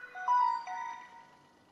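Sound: Samsung phone startup sound

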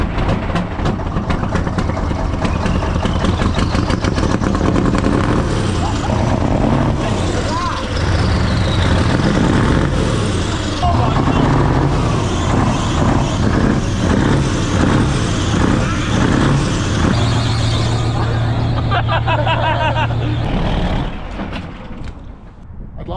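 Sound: Volvo V8 truck engine running

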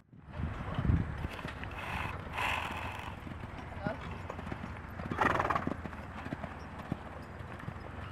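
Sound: pony walking and whinnying

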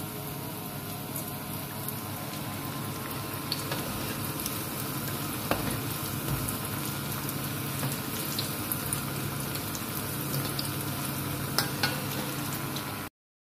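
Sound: frying corn fritters (bakwan jagung) in a pan

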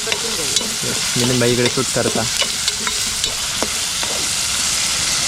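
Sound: onion and tomato tempering frying in oil

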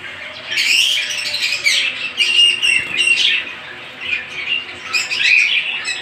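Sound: English budgerigars chirping

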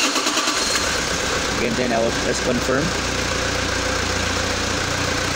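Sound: car engine starting and idling

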